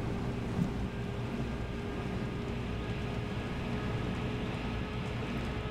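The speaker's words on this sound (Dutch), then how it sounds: "Ja, het regent" Steady rain in the train-driving game Train Simulator 2016, a continuous even wash of noise with a low rumble underneath, heard alone at constant level throughout.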